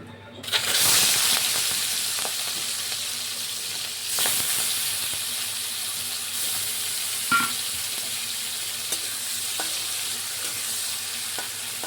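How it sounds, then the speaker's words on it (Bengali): Prawns hit hot mustard oil in a wok with a loud burst of sizzle that settles into a continuous hiss. Occasional spatula scrapes and clinks sound through to the end. "তেলটা গরম হয়ে গেছে, ঠিক এই স্টেজে এখানে চিংড়ি মাছগুলো আমরা এখানে দিয়ে দেব।"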